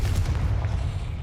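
Confringo fire spell blast in the Hogwarts Legacy video game, a dense, sustained booming roar with heavy low rumble lasting the whole short moment, loud and close with no talk.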